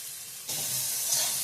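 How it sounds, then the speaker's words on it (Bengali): Eggplant pieces frying in a pan with salt and turmeric, a broad hissing sizzle that jumps up suddenly partway through and then holds steady and close. "হয়ে গেছে বেগুন ভাজাটা"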